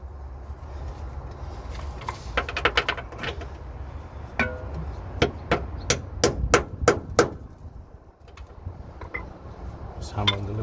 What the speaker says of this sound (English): Just hammering the loose rust off it.